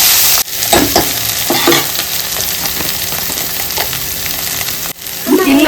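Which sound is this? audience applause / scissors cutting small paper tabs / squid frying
squid frying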